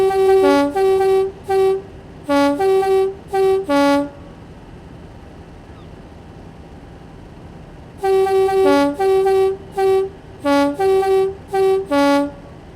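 Class 50 diesel locomotive horn in Train Simulator sounding in two bursts of rhythmic, two-tone toots separated by a quiet idling rumble, loud and close.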